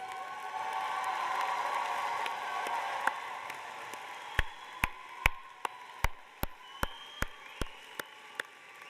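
Scattered applause from an audience at a university information school graduation ceremony honouring informatics graduates, a diffuse crowd wash with individual sharp claps growing more distinct toward the end.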